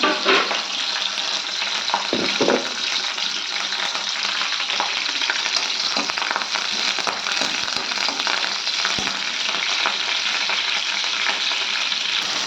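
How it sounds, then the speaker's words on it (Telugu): Green chilies and curry leaves fry in hot oil for a stuffed eggplant curry, a loud, continuous, crackling sizzle that stays close and dense with occasional stirring scrapes and no talking. "పచ్చిమిర్చి కావాల్సినన్ని వేసుకొని ఇది బాగా వేయించిన తర్వాత"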